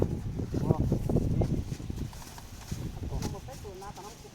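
Heavy hooves of a water buffalo plod steadily over the ground while people talk nearby, with outdoor background noise throughout.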